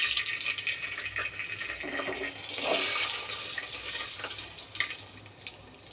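Cloves and cinnamon sizzle and crackle in hot ghee for a Bengaluru veg donne biryani. A steady frying hiss runs throughout with scattered pops, close and moderately loud, and no one speaks.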